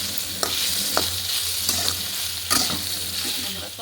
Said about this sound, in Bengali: তেলে একটু ভাজবো সোয়াবিনটাকে।